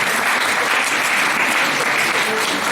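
Steady, dense applause from an audience, loud and continuous throughout with no pauses.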